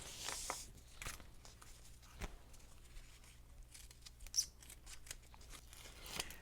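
Scissors snip cloth tape in a few quick, close cuts, with sharp clicks spread out and quiet rustling in between.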